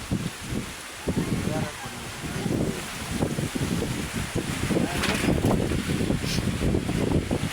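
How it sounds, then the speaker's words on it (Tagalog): Strong, gusty wind ahead of a typhoon buffets the microphone in ragged bursts, roaring and rustling under someone talking throughout. "So kayong hangin guys oh. Bagyo guys."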